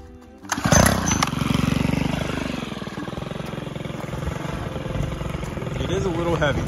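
A STIHL combi engine fitted with a power sweep attachment with rubber blades starts up with a burst, then settles into a steady, rattling two-stroke drone that rises slightly toward the end.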